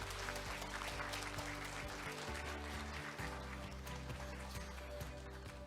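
Applause from a forum audience for a university president and four panelists, a dense, steady wash of clapping that holds throughout at a moderate level.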